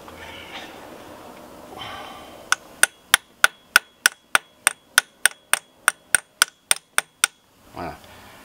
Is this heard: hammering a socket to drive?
yes